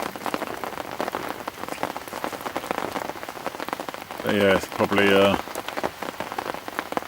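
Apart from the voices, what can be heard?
rain falling on a lake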